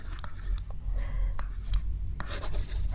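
Pen or pencil scratches across paper up close in short strokes and bursts, a dry scribbling rhythm over a low background hum.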